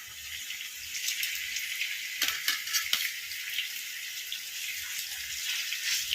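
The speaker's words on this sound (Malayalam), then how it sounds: "നമുക്കിനി ആ പുരട്ടി വെച്ചിരിക്കുന്ന മീനൊന്ന് ഷാലോ ഫ്രൈ ചെയ്യാം." Marinated fish, Karimeen, shallow frying in coconut oil in a Kerala-style kitchen, giving a steady, soft, hissing sizzle with faint crackling pops throughout and no voices.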